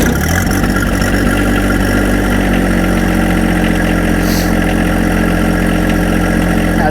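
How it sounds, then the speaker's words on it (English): A 2022 John Deere 2025R compact tractor's engine starts and settles into a loud, steady low idle, running alone throughout. "I'm gonna go ahead and start this up so you can get a good feel for how it sounds here."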